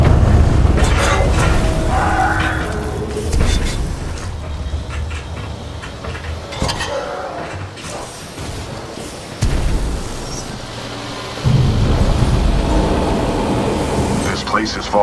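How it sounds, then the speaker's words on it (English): Explosions in the video game Titanfall 2: a series of deep booms and bursts rolls through a collapsing industrial area, loud and continuous, with heavy low rumble and sharp impacts at several points. "a series of explosions just weakened the manipulator arm"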